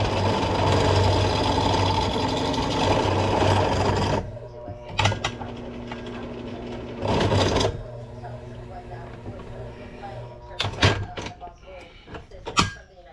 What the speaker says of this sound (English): So I'm trying to get that little bit drilled out.